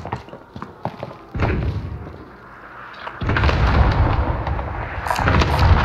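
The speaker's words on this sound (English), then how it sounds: "Cluster strike incoming. Take cover." Heavy cluster-strike explosions in the battle-royale game Rebirth, a series of deep booming thuds that swell and pile up, building to a continuous loud rumble with sharp cracks near the end.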